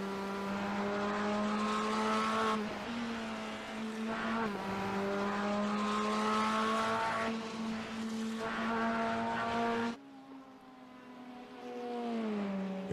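GT3 race car engines in the iRacing sim game drone loudly at high revs, pitch climbing and dropping with gear changes, then a sharp shift to a different, lower engine note near the end.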